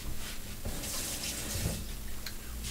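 Tap water running steadily from a kitchen faucet while pastry is sealed by hand, a continuous hiss heard alone and fairly close throughout.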